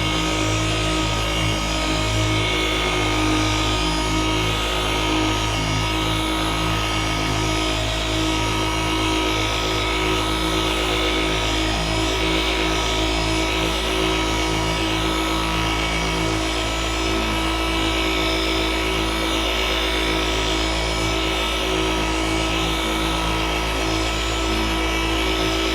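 A rotary polisher buffs a surface with a wool pad and polishing compound, a steady loud motor drone with a constant hum running unbroken throughout, no voices over it.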